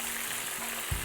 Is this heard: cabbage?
yes